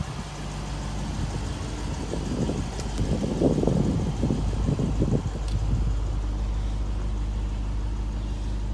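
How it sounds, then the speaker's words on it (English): A 2018 Lexus GS F with quad exhaust tips idles nearby, giving a steady low rumble that swells slightly in the middle, with some wind noise on the microphone. "And you can hear that exhaust just rumbling."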